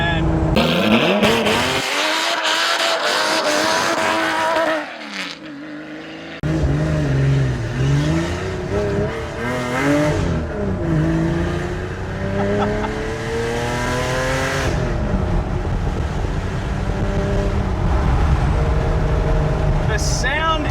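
An RWB Porsche 993 drives hard with loud engine revving, gear changes and tire squeal, rising and falling in pitch as it accelerates, with excited voices shouting over it.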